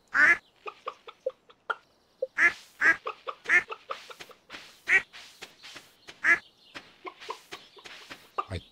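Farm chickens in the Stardew Valley video game make a string of short, clipped clucks in quick irregular bursts, close and fairly loud, with no talking over them.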